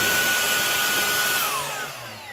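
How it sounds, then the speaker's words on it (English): A Shark StainForce cordless upholstery and carpet cleaner runs with a loud, steady, airy motor whine close by, its pitch sliding down as it begins to power off near the end. "This is a cordless upholstery and carpet cleaner that makes it super easy to carry from room to room."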